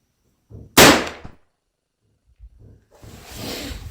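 A single sharp, loud rifle shot from a Ruger/Marlin 1894 lever-action at an outdoor range, followed by quieter thumps and a rising rustle of handling noise, close and with no talking.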